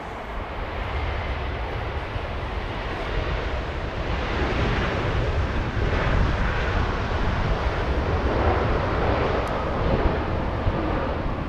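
A Boeing 777 slows down on the runway at LAX after landing, a steady loud broadband roar of engines and reverse thrust blended with strong wind noise, sustained without a break.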